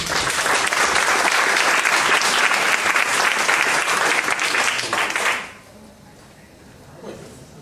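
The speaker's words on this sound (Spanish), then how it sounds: "Lo recibimos con un fuerte aplauso." Loud, dense applause from a crowd at a book presentation fills the space for several seconds, then cuts off abruptly into quiet room tone.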